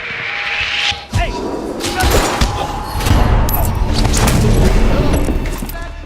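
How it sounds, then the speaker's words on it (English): Gunfire in a train station level of the video game Hitman Absolution, with repeated heavy shots and thuds over a dense, loud game mix and shouted voices. "Gunshot fired."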